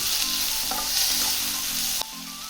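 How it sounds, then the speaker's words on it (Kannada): Chilli and tomato frying in a pan, a steady bright sizzle with a few scraping stirs of a spoon, close and continuous, with a brief knock near the end. "ಮೆಣಸಿನಕಾಯಿ, ಟೊಮೆಟೊ ಹಾಕಿ ಹುರಿಬೇಕು."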